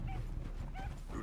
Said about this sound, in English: See the wolves over there feasting on that horse?